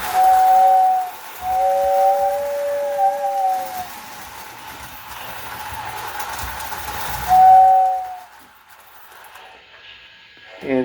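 A toy model train's steam whistle blows in steady tones, a few sustained toots early and another sharp one later, over faint running clatter of a small layout.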